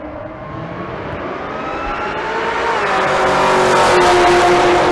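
A 2010 model Camaro drag racing at Bandimere Speedway, its engine climbing in a loud, steady rising roar as it accelerates down the strip, with no one talking.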